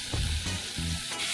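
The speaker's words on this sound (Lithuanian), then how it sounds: "Įpilam šlakelį aliejus, leidžiam aliejui įkaisti, sudedam mėsą" Meat frying in a splash of hot oil in a pan, a loud close sizzle with short low thumps as the pieces are stirred.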